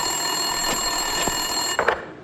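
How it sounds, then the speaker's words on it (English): An office desk telephone rings in the video game Max Payne 2 on Xbox, a continuous bright ring that holds steady over a faint background hum, broken by a few brief clicks near the end. "Winterson's phone was ringing."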